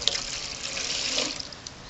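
35% lab-grade hydrogen peroxide pours into a container, a close, continuous liquid splash and trickle with small drips toward the end and no speech.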